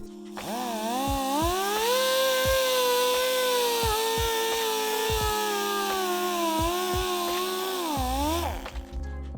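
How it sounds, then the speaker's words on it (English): A small abrasive wheel grinds the slightly pitted bore of an RM250 carburetor, giving a steady high-pitched whine that wavers slightly for about eight seconds before spinning down. "I'm just going to hit it with a small abrasive wheel."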